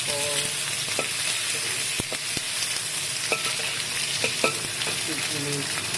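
Pineapple pieces sizzle and fry steadily in hot reused oil for a sweet and sour pork gravy, with occasional sharp clicks and scrapes of a utensil against the pan throughout.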